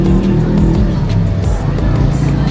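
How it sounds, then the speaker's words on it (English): Dense street traffic in Bukit Bintang, Kuala Lumpur, with a steady roar of car engines close by and vehicles passing continuously, loud and unbroken. "This is the traffic of it."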